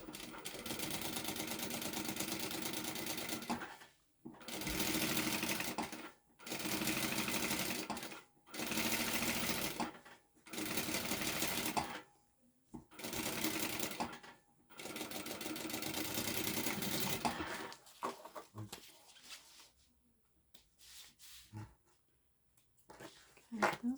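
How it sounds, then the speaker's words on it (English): A sewing machine stitches a bag seam in about seven loud runs of a few seconds each, separated by short pauses, then quieter handling noises. No words are heard. "So now we're going to do our sewing at the seam allowance."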